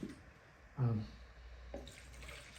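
A small amount of water is poured into a container of black projector-screen paint to rinse out the leftover paint, making a brief splashing gush followed by a faint trickle.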